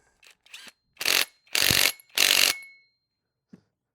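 A ratchet tightening a screw: a couple of light clicks, then three loud, close bursts of rapid ratcheting, each lasting about half a second, followed by a final faint tick.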